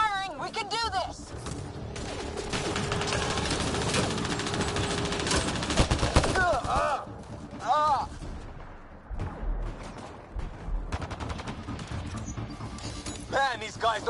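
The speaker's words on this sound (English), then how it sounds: "Just keep firing, we can do this!" Sustained gunfire and explosions from a PS4 shooter rattle on for most of the span, dense and loud, with a few short drops between bursts and game voices and speech mixed through.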